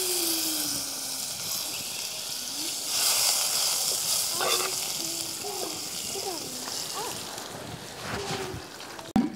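Desi ghee fries and sizzles in a pan in a steady, close hiss that runs throughout, with soft clinks of a utensil near the end.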